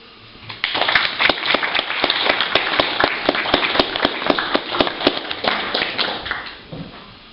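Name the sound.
audience applause for a poet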